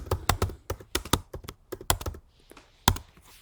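Someone types on a computer keyboard, a quick irregular run of close, crisp key taps with short pauses and a final firm press, with no talking.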